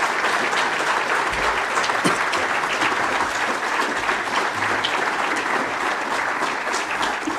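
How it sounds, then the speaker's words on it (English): A lecture audience at a memorial event applauds President Mbeki with sustained, dense clapping from many hands that holds at an even level from start to finish, with no voices over it. "Let's give President Mbeki a round of applause"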